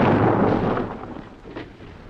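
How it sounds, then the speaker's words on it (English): An explosion wrecks a car in a 1957 film, heard as a loud, close, broadband blast that rolls into a decaying rumble over about two seconds. "Mystery explosion wrecks Pierre's car."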